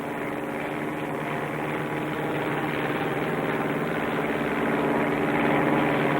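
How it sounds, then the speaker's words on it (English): A small bush plane's propeller engine drones steadily in flight, a constant loud hum that swells slightly toward the end. "transferred to a small bush plane for a short flight north to his uncle's ranch"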